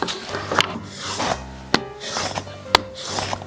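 A chisel rasps and scrapes through a paper booklet clamped in a vise at a workbench, with short rough cutting strokes and a couple of sharp knocks, close and fairly quiet.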